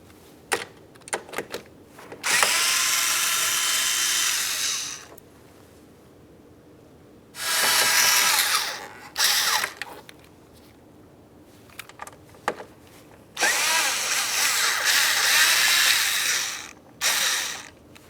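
A hand ratchet spins out 10mm bolts on a 2000-2006 Chevrolet Tahoe front door, its loud, close pawl clicking in several long rapid runs separated by short pauses and scattered single clicks.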